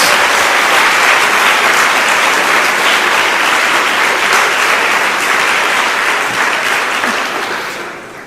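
A church congregation applauds in praise of Jesus at a Portuguese-language worship service. The dense, steady clapping fills the room for several seconds, then fades out at the end.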